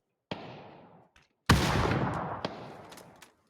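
Grenade exploding in a shooter video game: a sharp crack, then a loud boom that rolls and decays over about two seconds, with a few small pops after; no talk.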